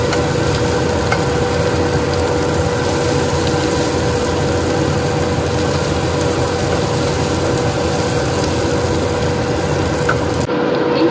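Anchovies frying in a pan for sambal give a loud, continuous sizzle and crackle close up, steady throughout with no talk, ending in a brief drop.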